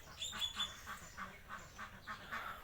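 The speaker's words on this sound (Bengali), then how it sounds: "তো দেখছিলাম হাঁস ধরতেছে তো হাঁস বিক্রি করবে" Ducks being caught to sell at market quack and squawk in repeated faint bursts, heard at a distance in an outdoor village setting.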